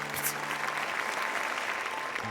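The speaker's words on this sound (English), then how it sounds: "At the end of the play, everyone clapped." An audience at the end of a play breaks into steady, dense applause that carries on evenly throughout.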